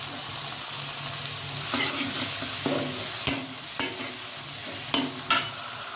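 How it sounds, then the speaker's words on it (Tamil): Tomato and curry leaves sizzle as they are sautéed in a pan for a chana dal dumpling curry, with steady frying hiss and several sharp spatula scrapes and clinks against the pan. "எல்லாத்தையும் நல்லா வதக்கி எடுத்துக்கலாம்."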